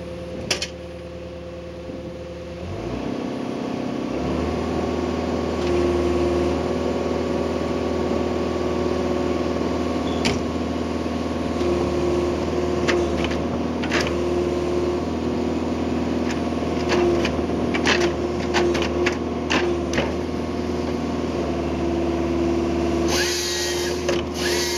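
An Arbro 400 firewood processor runs steadily up close, a continuous mechanical drone with intermittent knocks and clatters of wood being handled, ending in a brief louder burst.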